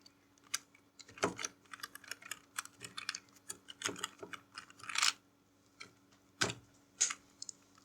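Typing on a computer keyboard while entering salary sheet labels in Excel, quiet close-up key clicks in irregular bursts and short runs with brief pauses between them.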